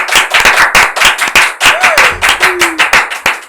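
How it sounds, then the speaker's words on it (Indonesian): A studio audience claps to welcome a special guest on an Indonesian talk show: close, loud, sharp handclaps in a brisk uneven rhythm through the whole stretch, with a brief whistle-like tone partway through. "semua tepuk tangannya."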